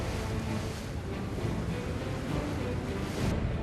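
Rough, rising sea waves wash and roar around a giant squid fishing boat off Peru, a continuous loud surge mixed with wind buffeting the microphone, with no voices.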